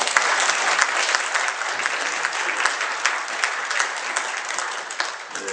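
A church congregation gives a loud round of applause during a service, bright, dense clapping from a large crowd that carries on evenly before tapering slightly at the end.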